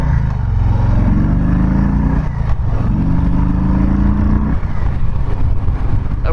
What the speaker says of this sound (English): feels like I'm meant to be riding this bike very aggressively